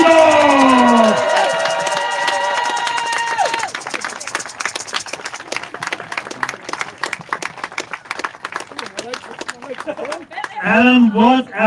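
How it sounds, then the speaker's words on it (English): A crowd applauds and cheers at the finish of an Atlantic ocean rowing race, with loud clapping building after a stretch of amplified voice and music, then a voice speaks over it. "make some noise, a big applause"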